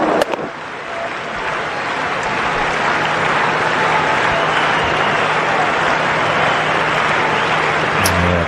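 A cricket crowd at a Pakistan versus South Africa Test match applauds a batsman's score, a dense, loud wash of clapping sustained throughout.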